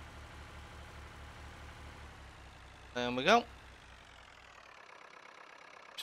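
A tractor engine in Farming Simulator 19, pulling a weeder, idles with a low, steady throb that fades out partway through. A short spoken phrase rises over it just before the engine dies.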